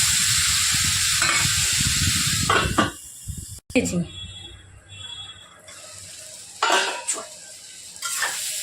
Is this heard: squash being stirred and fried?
yes